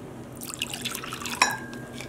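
Warm tap water splashes and trickles into a glass container, a close, bubbly stream of drips and pouring for dissolving acid dye when dyeing yarn.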